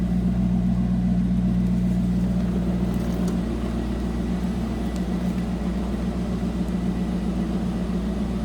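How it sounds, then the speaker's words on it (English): A 2003 Chevrolet Corvette 50th Anniversary convertible idles close by with a deep, throaty exhaust, a steady low rumble that holds even throughout. "you can hear this has a nice deep throaty exhaust note"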